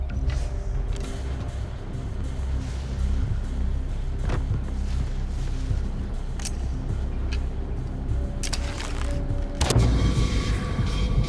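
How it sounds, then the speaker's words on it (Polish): A sudden booming explosion bursts out near the end over a constant rumbling, noisy Far Cry 4 game soundtrack, with a few sharper thuds earlier. "No, wybuchło"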